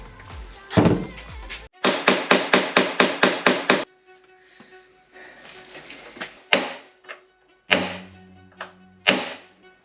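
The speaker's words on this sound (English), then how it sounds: "Have you got a bigger hammer then?" Hammer blows on a Porsche 964 Turbo part in a workshop: a single strike, then a rapid run of about nine sharp metallic hits, followed after a pause by several more spaced, ringing blows with a metallic resonance.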